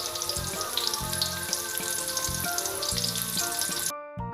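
Onions sizzle and crackle steadily in hot oil in a pan for sambal goreng ati ampela, a dense close frying hiss under a soft musical backing that cuts out near the end.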